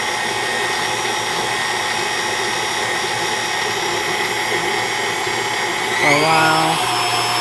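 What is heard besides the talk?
electric mixer kneading calzone dough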